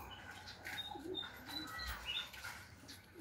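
Birds chirping and cooing around a semi-farm with many birds, a mix of small tweets and dove-like coos scattered over steady low outdoor background noise, with no talking.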